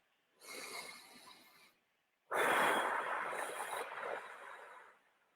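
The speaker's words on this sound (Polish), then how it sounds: "Weź razem ze mną jeszcze głęboki wdech i wydech." A slow, deep breath, a shorter inhale followed by a long, louder exhale, close and alone against silence during a guided morning mindfulness session.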